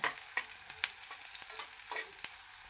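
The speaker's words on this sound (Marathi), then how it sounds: "ह्याला असं चांगलं तळून घेणार आहोत आपण मस्त सोनेरी रंगावर फ्राय करून घ्यायचं" Frying in a pan for potato pulao: a bright, close sizzle with quick stirring scrapes and clicks over under three seconds, no talking.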